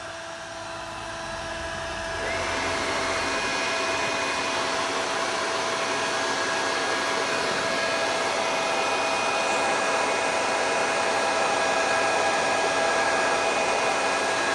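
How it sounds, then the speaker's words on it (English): A heat gun whirs on with a rising hum, then blows steadily in a loud, continuous roar that holds without pause. "I'm going to turn the heat gun on first, again."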